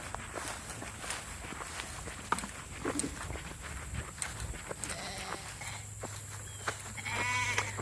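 Farm sheep bleat faintly amid crunching footsteps as someone walks down to feed them, with steady steps throughout and a brief bleat near the end.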